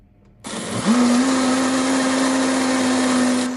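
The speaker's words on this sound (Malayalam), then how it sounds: "ആവശ്യത്തിനുള്ള വെള്ളം കൂടെ കൂട്ടി നമ്മളിത് മിക്സിയുടെ ജാറിലിട്ട് അടിച്ചെടുക്കുകയാണ് ചെയ്യുന്നത്" A mixer grinder jar blends a batter of yeast, coconut oil and water, kicking in after a brief quiet and holding a loud, steady whirring drone close by until the end.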